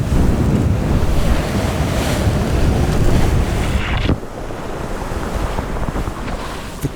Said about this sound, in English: The cold weather and waves got more angry as I approached the Shetland coast